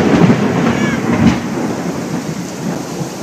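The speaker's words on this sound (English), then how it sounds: "I'm not sure if you can hear me over the downpour." Heavy rain pours down loudly and steadily while a deep rumble of thunder rolls through the first second and a half.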